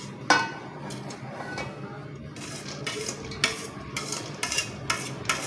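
Rice tipped into a pot while layering Kabuli pulao: soft grainy clattering and scraping knocks of a utensil against the metal pot, a sharp tap early then a string of quiet scrapes and taps, close and fairly faint.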